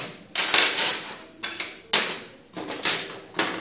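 Metal surgical clamps, a crushing clamp and straight and curved intestinal elastic clamps, clink and clack as they are handled, several sharp metallic knocks and rattles spaced irregularly, close and clear with no talking.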